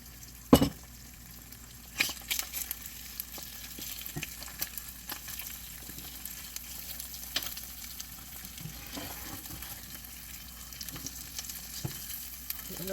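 An egg frying for a croissant sandwich gives a steady close sizzle, with scattered clinks and scrapes of utensils against the pan throughout and no talking.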